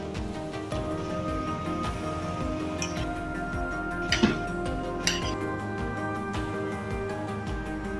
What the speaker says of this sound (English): Mix very well.